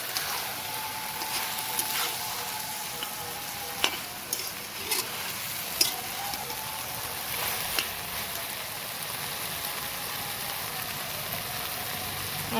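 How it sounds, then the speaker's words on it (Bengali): Shrimp and fish head being stirred and fried with taro stolons in a pan, a steady close sizzle with scraping stir strokes and a few sharp utensil knocks, no talking. "চিংড়ি মাছ আর মাছের মাথাটা অ্যাড করা হলো। এখন এর সাথে খুব ভালো করে নেড়েচেড়ে মিশিয়ে দিতে হবে।"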